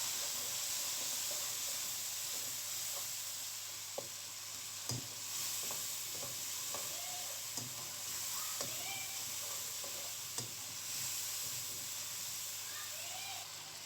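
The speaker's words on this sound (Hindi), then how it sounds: "अच्छी तरह भून लेंगे" Red chili, salt and turmeric masala for bhindi fries in a pan with a steady low sizzle and hiss. Occasional soft scrapes and taps of a spoon come through, fairly quiet, and there is no speech.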